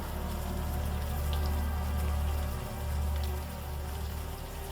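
Warm rain falling in the video game Unavowed, a steady dense patter of drops with a low rumbling undertone that swells and eases slightly, continuous and close, with no voices.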